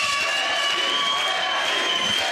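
A wrestling crowd roars and cheers for Sami Callihan at a CZW show, a steady dense wall of voices with no breaks.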